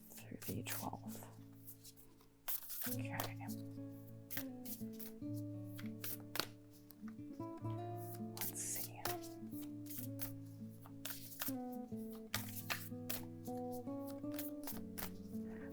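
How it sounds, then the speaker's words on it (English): Tarot cards being shuffled repeatedly in quick riffling bursts, close up, beneath steady background music with tonal chords. "been shuffling for a while now"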